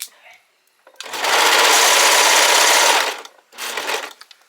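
A home sewing machine runs a seam on a Simplicity 3010 shirt, starting at the shoulder, with a loud close whir lasting about two seconds, a pause, then a shorter burst.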